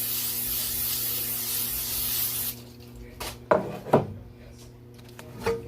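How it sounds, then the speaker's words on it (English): A can of butter spray hisses steadily into a cake pan for about two seconds, then stops, followed by a few knocks and clatters of the can and pan. "next I need to spray some butter spray from my pen, from Cake Pen"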